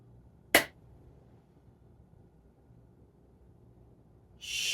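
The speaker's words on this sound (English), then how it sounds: "I'm going to clap my hands and all of this mess will magically disappear." One sharp, close hand clap cracks out in a quiet indoor room. Near-silence follows, and a burst of noise rises at the very end.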